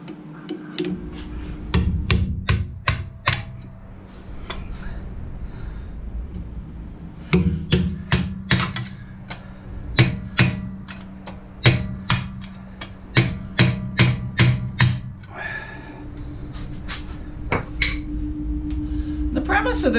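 Repeated sharp metallic strikes of a large hammer driving out a Jeep TJ front upper control arm bushing, loud and close, coming in uneven bursts of several blows with short pauses between them.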